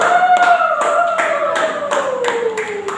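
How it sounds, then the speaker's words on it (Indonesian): Classroom children clap for a group of classmates, a burst of sharp handclaps over a sustained sung or hummed tone that slowly glides downward. "tepuk tangan dulu untuk kelompok anak-anak statue"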